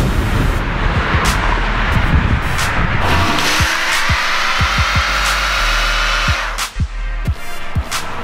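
A Ford Crown Victoria P7B police interceptor drives nearby, with a steady loud engine and road roar. Sharp knocks and clunks cut through the middle and end of the pass.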